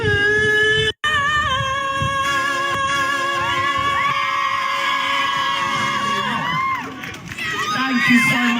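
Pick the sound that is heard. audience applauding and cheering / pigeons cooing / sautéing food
audience applauding and cheering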